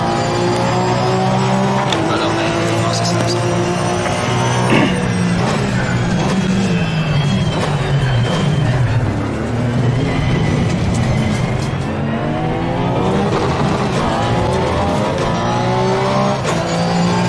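Porsche race car engine roars continuously in Assetto Corsa Competizione racing at Spa, loud and close, with pitch climbing and dropping through gear changes, plus faint tire noise.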